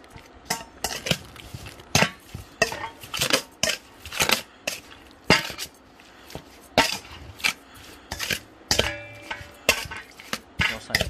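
Beef being stirred with oyster sauce in a pan, a steady run of clinks and scrapes from the utensil against metal, close and fairly loud with no voices.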